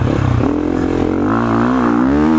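A Sherco 450 SCF dirt bike engine revs loud and close, dropping two gears so the pitch climbs steadily in a continuous rising whine with clattering mechanical texture underneath.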